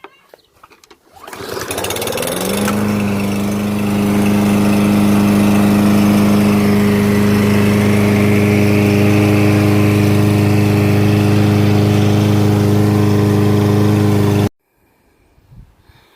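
Small gasoline lawn mower engine catches after a pull of the starter cord and settles into a loud, steady close running drone for about twelve seconds before cutting off abruptly, with no talk.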